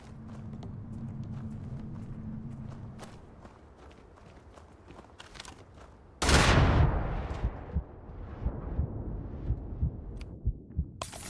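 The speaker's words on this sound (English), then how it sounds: "See, even explosions." A loud, booming blast in the video game Starfield bursts in suddenly and rumbles away, set among game-like footsteps and scattered clicks and thuds.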